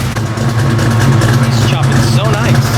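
A Ford Fairmont engine idling nearby with a steady low hum, while a person talks over it.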